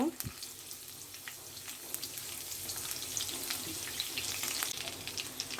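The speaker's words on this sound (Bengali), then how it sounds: "রসুন কুচিটা আমি একটু বাদামি করে নেব" Chopped garlic frying in a pan until brown for a spicy pasta, a faint continuous sizzle with light crackles throughout, quiet and close.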